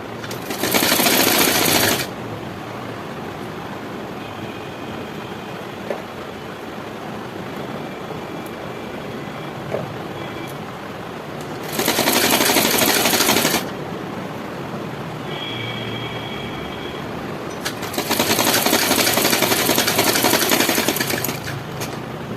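A domestic sewing machine stitching blouse fabric runs in three short bursts of rapid, loud mechanical whirring, separated by longer quiet stretches with faint handling noise.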